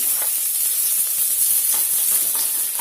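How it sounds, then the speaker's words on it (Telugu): Onions and curry leaves, with slit green chillies, frying in a pan for a taro curry, giving a steady close hiss with faint crackling pops throughout, no talking. "కొంచెం కరివేపాకు తర్వాత ఉల్లిపాయ ఇవి వేసుకొని వాటిని బాగా వేయించుకోవాలి"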